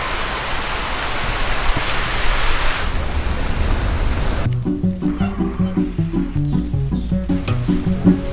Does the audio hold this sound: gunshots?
no